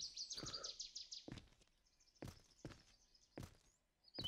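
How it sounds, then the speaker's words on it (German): Birds chirping in the survival game The Forest, a quick series of high thin chirps at the start with fainter calls later, interrupted by several dull footstep-like thuds. "Oh, Vögel, ich höre Vögel."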